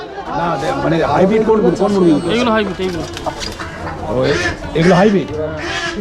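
Native and hybrid chickens at a rural poultry market in South Kolkata cluck and squawk repeatedly while people talk loudly nearby.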